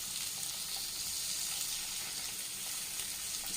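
Fish frying in a pan on a gas stove over low heat, a steady dense sizzle and crackle of hot oil continuing without pause and fairly close.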